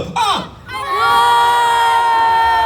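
A large crowd at a freestyle motocross event breaks into loud cheering and high-pitched shouting, rising after a brief opening yell and holding strong to the end.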